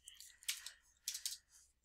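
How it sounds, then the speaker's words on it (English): Computer keyboard buttons are typed in a few quick, light clicks that come in two small clusters, faint and close in a quiet room. "Typing too many buttons."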